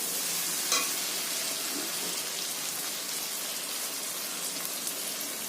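A fish head fries in oil with chilli and spices for moong dal, giving a continuous loud, even sizzle close up with a brief stirring clink early on.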